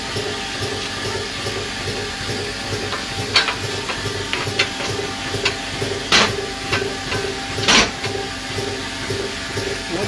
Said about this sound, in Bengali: এই স্টিম বয়লারটার বিশেষত্ব কী